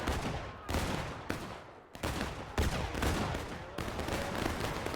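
Repeated musket volleys crack out from Civil War line infantry in an East Woods public match of a multiplayer shooter, several loud overlapping bursts and ragged rolling fire over about five seconds, no voices.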